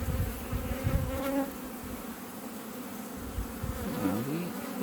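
Honeybees drone steadily around an open hive in June, a dense, continuous buzz with individual insects sweeping close past and fading, wavering in pitch throughout and heard alone without talk.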